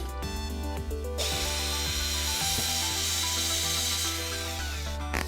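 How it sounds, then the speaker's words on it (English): An electric drill fitted with a stepped bit cuts a hole, a steady high, bright grinding whine starting after a brief lower rumble and running loud and continuous to the end, with faint knocks underneath. "So I've got my drill with a stepper bit on there,"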